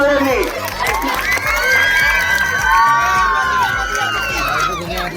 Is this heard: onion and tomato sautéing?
no